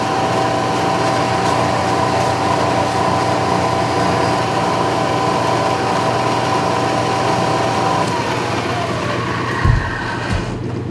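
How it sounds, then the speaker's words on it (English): A milling machine conventional-milling a ram rod retaining block, giving a steady, even mechanical hum with a constant whine that runs unbroken for about ten seconds, with a couple of soft knocks near the end. "I'll do a conventional mill and show you what I'm talking about."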